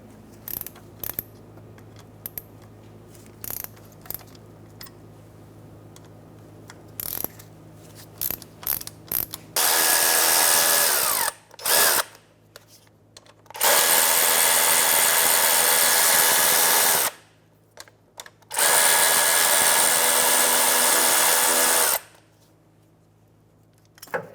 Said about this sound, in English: I'm going to remove the air pump, which is 3 mounting bolts right here, 13mm socket. Break them all free.